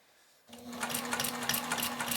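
After a quiet start, a sewing machine begins stitching quilt fabric, a steady close rapid whirring and ticking that runs evenly to the end with no talk.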